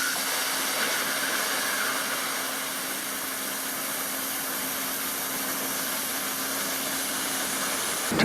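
A plasma cutter's arc cuts through metal with a continuous harsh hiss and a faint steady whine, loud and even from start to finish with no talking, cutting off abruptly at the end.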